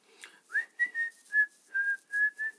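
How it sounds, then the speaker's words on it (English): A person whistles a short melodic tune at a craft table while working on junk journal signatures, clear and close, in a string of sustained notes with brief gaps between them and no speech. "So were you whistling while you working"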